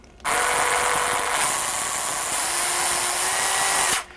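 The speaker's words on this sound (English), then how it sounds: "the reason why is because I have a drill" A power drill used as a mixer for cupcake batter whirs steadily at high speed for several seconds, starting and stopping abruptly, loud and close.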